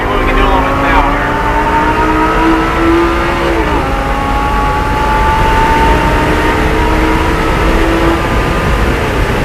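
Lamborghini LP560-4 engine pulling hard around a race track at NOLA Motorsports Park, a loud steady wail with rising harmonic pitch, a brief dip near the middle as it shifts, then climbing again, with someone talking over it.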